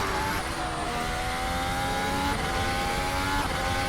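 Mercedes W11 Formula 1 car in a racing video game, its engine holding a steady high-pitched whine through a corner, pitch sliding slightly downward then climbing again, loud and continuous with no talk.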